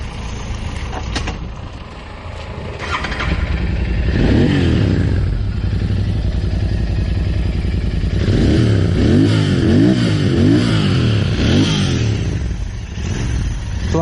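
A Royal Enfield Interceptor 650 motorcycle engine idles, then revs up hard in repeated throttle bursts, loud and close, settling back between revs.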